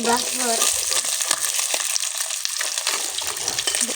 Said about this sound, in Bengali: তেল গরম তেলে এইভাবে আমি মাছগুলো ভেজে নিব